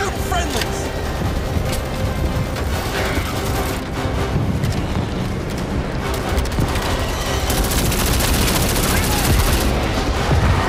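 Sustained gunfire and bursts from the video game Starship Troopers Extermination, loud and continuous throughout with booming impacts, layered under game voices shouting.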